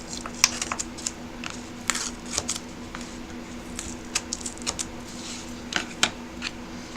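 Scissors cut into a paper album template in a series of sharp, close snips and clicks at an uneven rhythm over a low steady hum, with no one talking.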